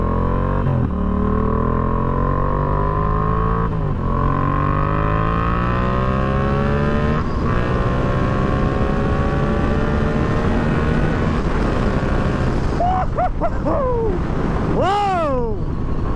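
A Yamaha XSR700 motorcycle fitted with a Power Vision 3 tune rides along the road, its engine droning loudly and steadily through several rising gear pulls, with heavy wind rush throughout and a quick burst of revs near the end.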